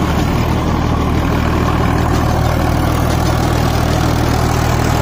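A new Sonalika DI 35 tractor in second gear drives a 7-foot rotavator with both levers down, producing a loud, steady engine drone with no pauses.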